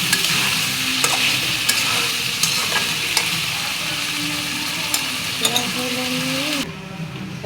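Tomatoes sauté in a pan with a continuous close sizzle, broken by scraping stirs and occasional clinks of the utensil, loud throughout, with a brief voice near the end before the sound drops away.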